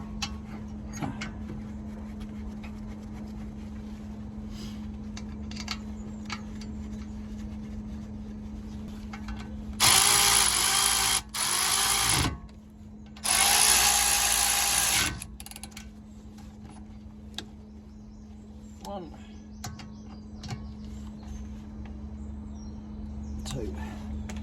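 A power tool drives new brake caliper bolts on a Volvo XC40 front brake during a pad replacement, with two loud bursts of a few seconds each and a brief pause between them, over a steady hum and scattered clinks.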